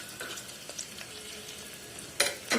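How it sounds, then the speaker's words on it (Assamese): Onions and a bay leaf fry in a pan with a faint, soft sizzle, a few light stirring clinks and two sharper scraping bursts near the end. "পিঁয়াজখিনি অকণমান ভজা হ'ব লাগিব।"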